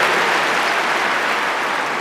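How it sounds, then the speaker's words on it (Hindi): A large audience applauds loudly to welcome Army Chief of India General Bipin Rawat at a Brahma Kumaris gathering, a dense, steady wash of clapping holding at even volume throughout. "इसके लिए जोर से ताली बजा करके स्वागत करें।"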